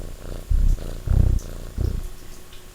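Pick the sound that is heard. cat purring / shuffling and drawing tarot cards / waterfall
cat purring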